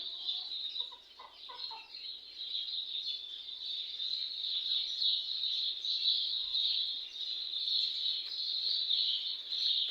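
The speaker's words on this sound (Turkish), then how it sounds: "Şimdi kuşları daha iyi duyabilmeniz için biraz daha yaklaşacağım" Birds sing in a garden with a large tree where they nest, near chickens. A continuous, shrill, high-pitched chorus holds steady and fairly faint throughout, with no voices.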